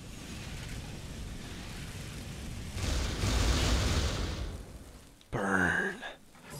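A flamethrower burns in Metal Arms, a steady roaring whoosh of fire that swells for a couple of seconds and then a second short, loud blast.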